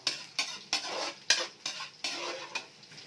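Garlic drops into hot oil and is stir-fried, each scrape of the utensil bringing a burst of sizzle, about eight quick strokes in a steady rhythm, close and clear with no voices.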